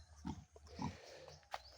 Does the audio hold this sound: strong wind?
no